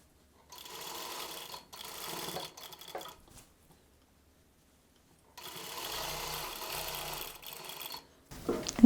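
A sewing machine stitches a single-layer seam on salwar pants, running in two steady buzzing bursts with a short stop between them and a longer pause before a louder clatter at the end, near and clear, without speech.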